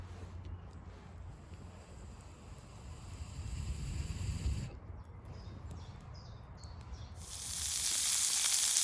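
Food sizzling over campfire embers at a semi-wild woodland campsite, a steady soft crackling fry with wind rustling through, swelling midway and growing louder and hissier near the end.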